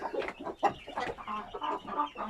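An Indian game rooster clucks and calls in a run of close, rhythmic squawks and throaty bursts, moderately loud and alone, with no talking.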